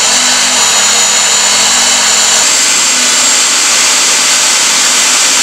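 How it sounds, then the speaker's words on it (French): A magnetic drill bores through steel plates for a metal building frame on a construction site in Attiékoi, giving a loud, continuous whirring motor drone whose low hum drops away halfway while the high grinding carries on. "perce les platines à l'aide d'une perceuse magnétique"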